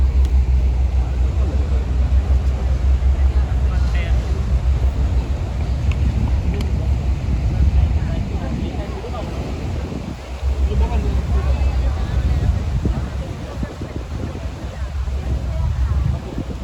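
A boat is steered around and brought alongside a harbor near Dibba in Musandam, its engine giving a steady low rumble beneath heavy, continuous wind buffeting the microphone, with water and wind noise throughout.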